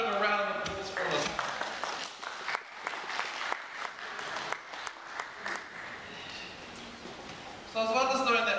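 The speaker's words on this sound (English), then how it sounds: "can we give Darko a bit of a round of applause for this?" A zoo audience applauds for Darko in a burst of clapping that fades down after a few seconds, mixed with scattered voices and a brief swell again at the end.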